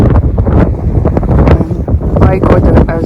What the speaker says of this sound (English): My God, it is windy.